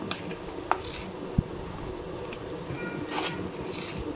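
Pakora batter for a chicken pakora pizza being stirred with a little water to a thick consistency, giving a soft, continuous wet squishing with a couple of faint taps of the spoon against the bowl, no talking.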